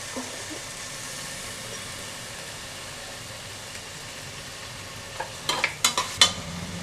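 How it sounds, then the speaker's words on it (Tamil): Mixed vegetables salted with rock salt sauté in a pan for sambar rice, a faint steady frying hiss with a few louder stirring scrapes near the end; no voices. "அதுக்கப்புறம் இப்போ நல்லா வதக்கிக்கலாம்"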